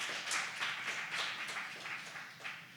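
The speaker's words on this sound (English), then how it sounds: "So please join me in giving a round of applause for our honorable guest" Applause from an audience for an honored guest at a climate justice gathering, a steady patter of many hands clapping at moderate distance, fairly faint, with no talk over it.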